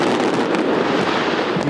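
A dense, continuous crackle and boom of New Year's Eve fireworks over the River Thames in London, loud and unbroken, with no voices.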